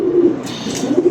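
Pigeons cooing close by during a show of a breeding pair of pigeons, a steady low throaty coo running through the whole moment with no talk over it.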